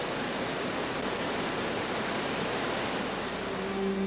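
The Iguazú waterfall roars as a dense, continuous wash of rushing water, loud and steady throughout with no voices.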